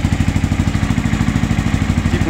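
Honda XBR 500 motorcycle engine idling at its first start, loud and close, a steady rhythmic thumping pulse with a rough mechanical chatter on top, no talking.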